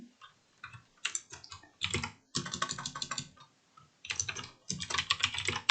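Typing on a computer keyboard, with quick close bursts of key clicks in uneven runs separated by brief pauses, fairly quiet and with no talk.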